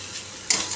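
Tender vegetable frying in a pan, a soft steady sizzle that swells into a brighter, louder hiss about halfway through as it is stirred.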